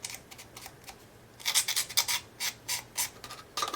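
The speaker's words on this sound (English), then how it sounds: "what's better than that is the Basic Grade Precision Filing Set, which you can also get at 2-piece, and that'll just take off all those notches" A small precision file rasps notches off the edge of a paper die cut: a close series of short, dry scraping strokes, sparse at first and then a quicker, louder run of repeated rubs.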